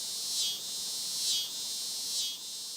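Male cicadas calling to attract females produce a high, buzzing drone that swells in three rhythmic pulses over a steady insect hum, loud and continuous with nothing else heard.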